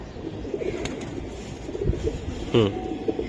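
Silver Giribaj pigeons coo softly in a loft, low rolling calls repeating at intervals, with one louder, closer burst of cooing standing out amid faint background rustle.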